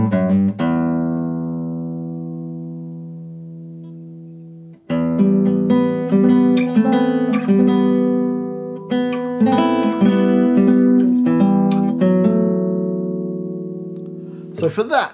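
A Spanish guitar plays the opening line of a song, ringing plucked notes and hammer-ons with strong low strings sustaining, then a quick strummed flourish, close and clear with no talking.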